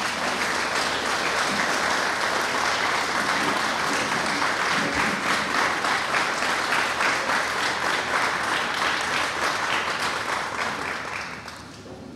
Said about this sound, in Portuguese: me pedi também aplauso para o aluno que está sentado aqui para receber um certificado